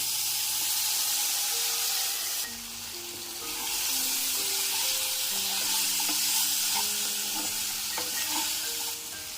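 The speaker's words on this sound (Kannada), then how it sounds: "ಈ ಖರ್ಜೂರ ಎಲ್ಲ ಸ್ವಲ್ಪ ಸಾಫ್ಟಾಗಿ ಅನ್ನೋ ಕಾರಣಕ್ಕೋಸ್ಕರ ಈ ರೀತಿ ತುಪ್ಪದಲ್ಲಿ ಹುರ್ಕೋತೀವಿ ಅಷ್ಟೇ" Dates sizzle and fry steadily in hot ghee while being stirred, a continuous close crackling hiss with occasional clinks from the pan, no voices over it.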